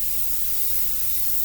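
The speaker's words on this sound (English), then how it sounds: "And I'm gonna spray my pans," Cooking spray is sprayed over a sink onto disposable cake pans: one continuous, close aerosol hiss that fills the whole short moment without pause.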